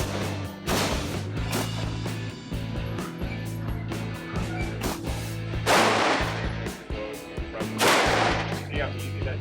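A pistol fires sharp, loud shots at a shooting range, a few seconds apart, with a constant low hum in the background.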